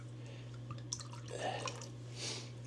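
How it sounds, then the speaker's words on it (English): Liquid trickles and drips onto the soil of a potted avocado plant, soft close splashes and gurgles over a steady low electrical hum. "There it is, the magic concoction. Right there. We'll pour that on there."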